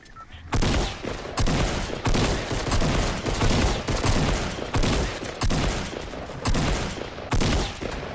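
Loud, sustained rapid gunfire in the video game Fortnite, bursts of automatic fire running almost continuously with brief breaks, dense and close, over faint game ambience.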